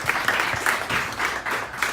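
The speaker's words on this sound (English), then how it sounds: "Big round of applause." Applause for a poet at a dive bar poetry reading: a modest crowd claps in uneven bursts, sounding fairly close in a small room.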